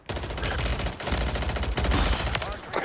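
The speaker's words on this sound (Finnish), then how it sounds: "Älä nyt sitä ammu." Rapid bursts of automatic gunfire in a multiplayer shooter video game, loud and nearly continuous across the clip with short gaps between volleys.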